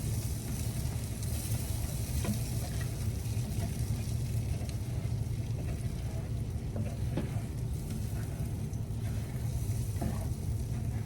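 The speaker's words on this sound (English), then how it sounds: "Make you some scrambled eggs here." Eggs scrambling in a hot pan give a steady, close, low sizzle that runs without a break, with soft scrapes as the curds are pushed in from the sides. No one speaks.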